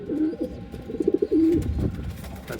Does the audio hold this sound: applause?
no